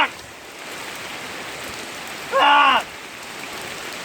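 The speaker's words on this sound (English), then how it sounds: "I decided to make things easy and wash the car in the rain" Heavy rain pours steadily on a Datsun 260Z being washed outdoors, a continuous hiss with a brief loud vocal exclamation cutting through partway.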